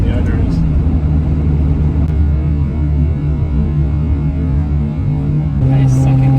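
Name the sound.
Ferrari 355 engine driving up a ramp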